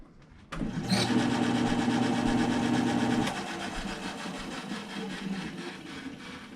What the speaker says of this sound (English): normally at this point I'd plug it back in real quick just to spin it before we put the cover on